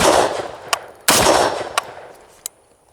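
FN FAL rifle fitted with an inch pattern muzzle brake firing two loud, close shots, each followed by a long echoing boom, with sharp metallic clinks, likely spent casings, in between.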